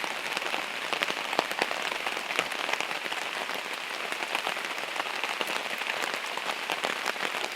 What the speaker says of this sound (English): It's not raining crazy hard yet.